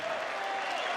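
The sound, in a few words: crowd applauding at squash match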